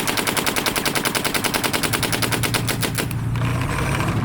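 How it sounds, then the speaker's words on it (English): A DLX Luxe Idol paintball marker firing rapidly, an even, fast string of loud close pops for about three seconds before it runs dry and a hiss takes over. "I've got the Luxe Idol, and we're gonna give it a little rip here."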